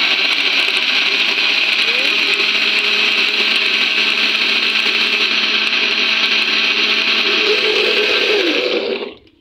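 Blender whirring steadily as it blends oats and water into a drink, a loud continuous motor drone with shifting pitch that runs uninterrupted, then cuts off abruptly right at the end.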